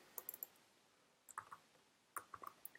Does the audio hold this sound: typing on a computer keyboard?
yes